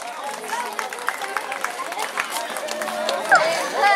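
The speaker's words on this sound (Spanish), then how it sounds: "fuerte los aplausos para todos los padrinos" Crowd at a family celebration with a waltz and toast claps for the godparents, steady dense applause mixed with chatter and a voice over a loudspeaker.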